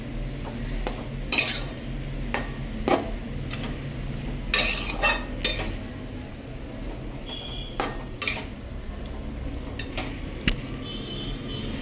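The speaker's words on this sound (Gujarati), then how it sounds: "બધું બરાબર મિક્સિંગ કરી લેવાનું." Rava and makhana modak mixture stirred in a pan with a metal spoon, repeated scraping and clinking strokes over a low steady background hum.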